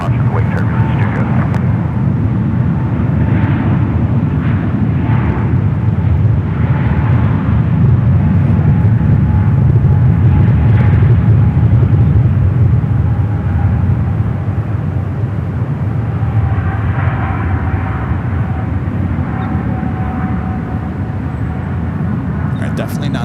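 An Airbus heavy jet rumbles steadily on final approach to land at San Francisco airport, a broad, loud, continuous roar of engines and wind with a faint tonal whine, plus occasional voices of radio chatter.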